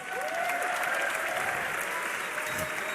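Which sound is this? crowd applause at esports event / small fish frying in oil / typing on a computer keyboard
crowd applause at esports event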